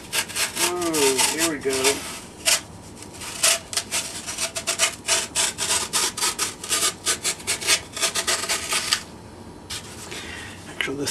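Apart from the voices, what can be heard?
hacksaw blade cutting model railroad scenery material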